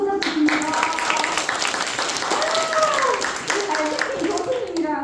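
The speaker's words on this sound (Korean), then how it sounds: "박수 부탁드립니다." An audience at a local-government talk event in Daegu claps steadily for several seconds, a dense wash of applause while a host speaks over it.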